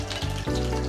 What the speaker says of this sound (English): That sizzle, I don't know if you could hear it.